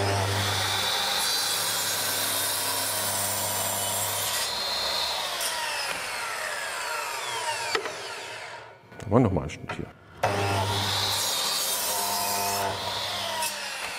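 A Bosch Professional power miter saw cuts through wood without a soft start, a loud sustained whine under brief talk, dropping out for a moment before the motor roars back up.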